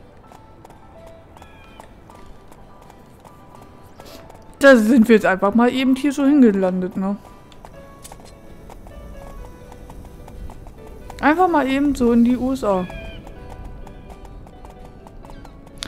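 Horse hooves from the riding game Horse Life tap out a soft, steady clip-clop throughout, and someone talks loudly over them in two bursts.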